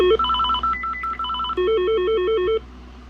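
A Mitel 5324 IP desk phone plays ringtone number 1, a loud close electronic trill of rapidly alternating warbling tones in repeated bursts, stopping abruptly after about two and a half seconds.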